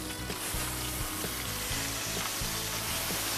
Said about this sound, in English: So we just sear it.